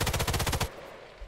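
Rapid automatic gunfire from a weapon in the World War II stealth shooter Sniper Elite 5, a loud burst of about a dozen shots lasting under a second, then a quieter fading tail.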